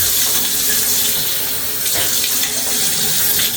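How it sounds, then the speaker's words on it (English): Running tap water splashes steadily into a bathroom sink while someone rinses their mouth after brushing teeth, a close, continuous hiss with brief sloshing bursts and no speech. "I rinse excessively because I really don't like the taste of mouthwash."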